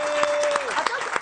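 A studio audience gives a brief spatter of applause, with a few distinct claps. Someone talks over it throughout.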